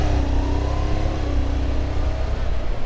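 Honda DN01 motorcycle accelerating on a twisty road, its engine a steady loud drone with a rising tone throughout, close by.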